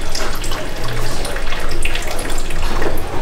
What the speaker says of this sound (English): So it goes through the water and then you drip it off.